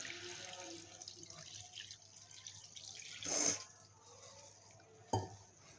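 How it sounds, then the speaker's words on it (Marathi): Water poured into a pot to soak ingredients for a simple Maharashtrian breakfast dish, a soft running trickle with a louder splashy pour midway and a brief knock near the end. "पाणी टाकून घेते"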